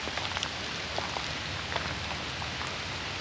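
Steady rain falls outdoors, a dense even patter of drops on surfaces with faint scattered individual hits, continuous and moderately distant with no voices.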